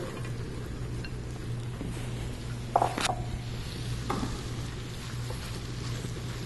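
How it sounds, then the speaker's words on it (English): Sweet potatoes sizzle softly in melted butter while a spatula stirs them, a low steady frying hiss with a couple of brief clatters from the pan. "now that the butter's melted, we're going to go ahead and put our sweet potatoes in."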